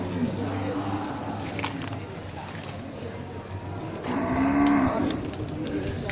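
Female Aceh cattle at a livestock trader's yard, with a couple of drawn-out moos rising over steady background noise, the loudest near the end.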